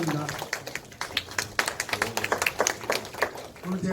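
Scattered clapping from a crowd greeting the mayor at a Hwaseong citizens' regional meeting, steady sharp claps over about four seconds with voices talking alongside.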